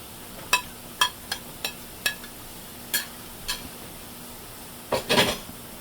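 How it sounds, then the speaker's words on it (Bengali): Chopped garlic fries with browning onions in a pan, a soft steady sizzle broken by a dozen sharp spatula scrapes and clacks against the metal, ending in a brief busier clatter, no voices. "রসুনটাও কিছুক্ষণ আমি এখানে ভেজে নেব"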